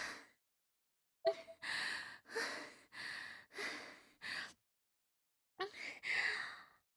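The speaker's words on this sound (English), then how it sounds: "it's not moaning, it's called panting." A character in the horror video game Corpse Party Blood Drive pants in a run of close, breathy exhales and gasps, about seven in two bursts separated by short silences.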